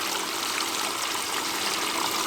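Water rushes steadily through a small gold cleanup sluice lined with hog matting and washer mat as concentrated material is fed in slowly, a constant close broadband wash with no talk.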